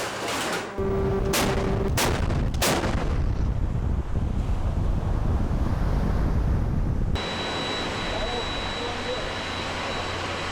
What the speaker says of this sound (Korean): 배 위에서 포를 쏘는 일은 현대 해전에서도 고도의 전술적 능력을 필요로 하는 일이다.